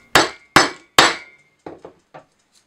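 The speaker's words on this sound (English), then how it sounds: "Now it's time that the adapter gets a firm punch, once or twice with a sensitive hammer." A hammer strikes a metal hole saw adapter to seat it, three loud, sharp ringing blows at a steady beat followed by three softer, quicker taps and a faint last clink, close by with no talking.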